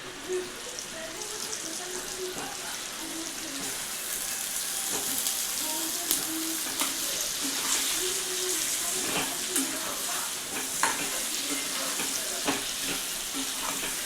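Stuffed brinjals fry in a roasted red chilli spice masala, a continuous loud sizzle with scattered crackles and stirring scrapes that grows fuller after they go in.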